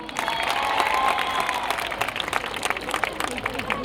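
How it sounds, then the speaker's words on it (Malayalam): At a college day inaugural ceremony, a crowd applauds actor Shiyas Kareem as he arrives. Dense clapping starts at once, then thins into scattered claps under crowd murmur and voices. "നല്ലൊരു കൈയടി കൊടുക്കുക"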